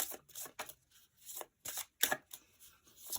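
Tarot cards being shuffled by hand, a series of crisp riffling bursts in an irregular rhythm with short pauses between, close and quiet, with no talk.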